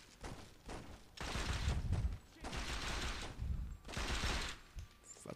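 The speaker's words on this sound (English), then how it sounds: "Does he not hear all the freaking bullets going on?" Saints Row 2 gunfire comes in dense automatic bursts with short gaps between them, loud and close, while someone talks excitedly over and between the volleys.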